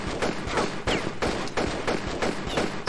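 Pistol gunfire in Tomb Raider: Chronicles: a steady run of rapid shots, roughly every third of a second, loud and close, with no talk over it.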